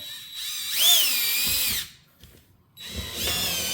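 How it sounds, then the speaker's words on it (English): A power drill with a 7/8-inch bit whines loudly as it bores a hole through carpet and floor, pausing briefly before spinning up again for a second burst. "you're going to take your 7/8" drill bit and you're going to drill your next hole"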